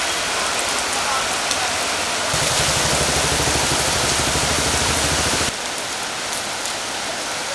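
Heavy monsoon rain pouring down in Tirur, Kerala, a dense steady hiss of rain on surfaces, with a low engine-like hum joining in for a few seconds midway.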